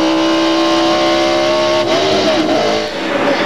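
A NASCAR Busch Grand National race car engine screams at very high RPM during the 1997 Lysol 200, a loud, close, sustained whine that shifts pitch and dips briefly as it changes, with no talk over it.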